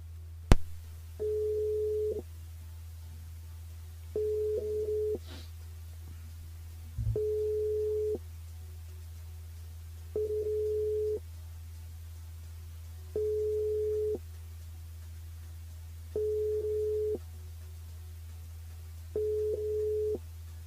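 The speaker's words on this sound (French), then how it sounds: "Il y a des sonneries." Repeated telephone ringback tones heard while a radio show host calls a listener over the station switchboard, short steady beeps in a regular pattern about every three seconds over a low hum, with no voices.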